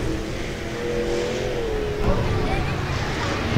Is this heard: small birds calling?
no